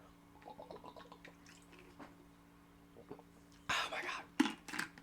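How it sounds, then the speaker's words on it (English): Water being drunk from a water bottle at close range, quiet sipping and squishing giving way to a louder burst of gulping and liquid sounds near the end, with soft mouth noises and faint whispery breath earlier. "I am going to take a drink of water."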